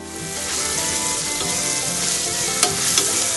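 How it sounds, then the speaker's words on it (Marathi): Onion and tomato sauté in a hot pan for spiced matar pulao, a steady broadband sizzle with stirring scrapes running throughout, close and fairly loud, with a couple of sharper clinks near the end and no talking. "टोमॅटो छान परतून घेऊया।"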